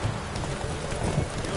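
Roach, the horse in The Witcher 3, runs with a steady drumming of hooves on the ground under a wash of ambient noise, with no talking.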